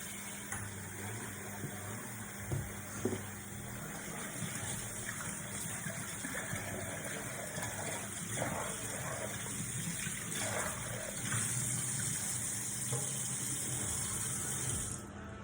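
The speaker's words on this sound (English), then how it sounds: "I'm going to wash my bowl again so I don't cross-contaminate" Running tap water pours steadily into a sink while a mixing bowl is rinsed, a continuous close gushing with occasional splashes and knocks and no talking.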